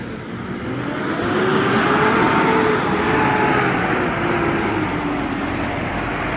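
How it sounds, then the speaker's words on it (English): A Valtra tractor drives in at a large used tractor dealership in the UK, its engine a steady, fairly loud diesel drone that swells slightly as it nears, with an uneven change in pitch as it shifts gear. "The Valtra coming in here, but I don't think the guy knows how to change gear."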